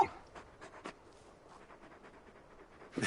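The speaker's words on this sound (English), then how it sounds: "You're just a big puppy, aren't you? A very big puppy." Torgal, a large dog in a video game, panting softly: quick rhythmic breaths come in a faint, close, steady series, with a couple of louder rustling bumps at the start and end.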